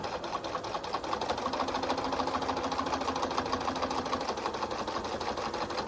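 A sewing machine fitted with a walking foot runs continuously through a thick quilt flange border, a close, even mechanical whir with rapid steady stitch ticks throughout and no speech.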